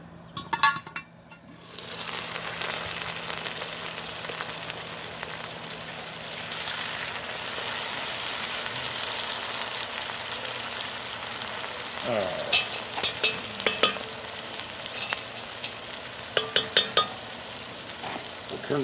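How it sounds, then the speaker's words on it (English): Bacon frying in a pan over a propane burner for a country pork breakfast, a steady sizzle throughout with scattered sharp pops and crackles building toward the end. "we'll just fry up the bacon and eat the bacon"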